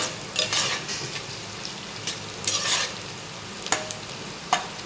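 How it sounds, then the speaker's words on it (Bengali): Capsicum fries in a hot pan as a spatula scrapes and stirs in quick bursts, with a few sharp metallic clicks. "এবার আমি ক্যাপসিকামগুলো দিয়ে দেবো এইগুলোকেও ভাজা ভাজা করে নেব"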